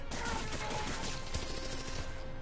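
Gunfire in a Spider-Man video game, a rapid burst of several close shots crackling together over game background noise.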